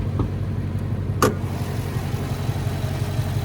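A 2020 Dodge Charger R/T Plus Blacktop Package with a 5.7-liter V8 idling under the open hood, a steady low rumble heard close with a brief click partway through.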